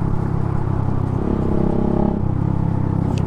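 Suzuki Gixxer 155fi motorcycle engine blipped for a rev-matched downshift, a steady close rumbling drone with slight rises in revs, no voices.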